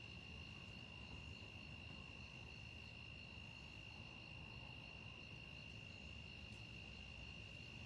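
Crickets chirp steadily through a night scene at an outdoor backyard telescope setup, a faint continuous high trill over low rumbling wind noise with no talking.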